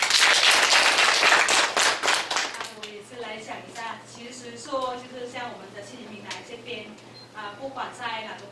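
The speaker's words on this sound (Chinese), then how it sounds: "掌声欢迎一下" A forum audience at a labour development innovation event for new immigrants gives a short, loud round of clapping that fades after about three seconds, followed by someone speaking.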